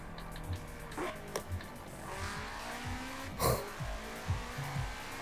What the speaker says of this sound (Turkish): arabanın sesi içten daha çok geliyor.